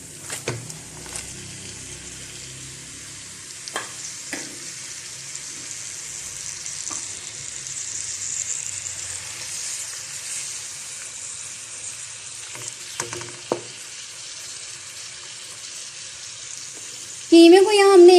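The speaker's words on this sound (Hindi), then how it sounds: "कीमे को हम भून रहे हैं।" Minced meat fries with garlic in a pan, giving a soft, steady sizzle with occasional stirring clicks, fairly quiet throughout, ending in a brief louder clatter.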